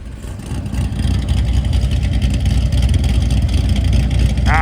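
A Chevrolet Corvette C6 with a V8 engine and an aftermarket cam revs steadily, a loud, dense, continuous engine roar close by that holds high throughout, with a brief voice at the very end.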